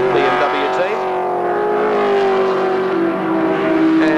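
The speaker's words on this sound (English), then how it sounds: "He's got a BMW chasing him up the hill, which would be, of course, Jim Richards." Holden Commodore and BMW Group C race cars climb the hill at Bathurst in 1982, a steady, droning engine note held at high revs under continuous race commentary.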